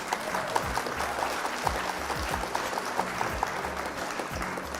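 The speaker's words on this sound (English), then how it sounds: "Round of applause for our opponent." Applause from a small group after a Flesh and Blood card game match, a steady patter of clapping with scattered louder claps, while short tones or chimes repeat through it and low thumps sound underneath.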